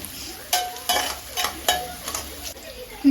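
Green beans tossed and stir-fried in a hot pan for fried rice, with scraping stir strokes roughly every half second over a steady sizzle, close and fairly loud.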